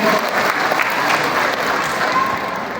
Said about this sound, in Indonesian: Beri aplaus untuk diri Anda masing-masing, Bapak Ibu